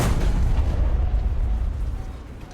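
A Jagdtiger tank gun firing at a battleship in a video game: one heavy, booming low blast with a rumbling tail that slowly decays.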